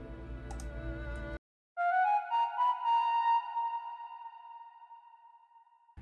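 A synthesized flute from Morphine software plays short melodic ear-candy phrases after a brief buzzy passage and a gap, ending in a long sustained note that slowly fades, with no voices.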